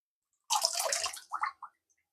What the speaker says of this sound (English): swish it around in the water.